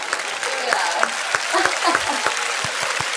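A small audience gives brief applause, a moderate patter of clapping with voices mixed in that stays fairly close and steady for a few seconds.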